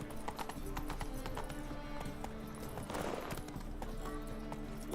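Hooves of Roach the horse in The Witcher 3 drum in a quick galloping rhythm, with a whinny and faint voices mixed in over the steady clatter.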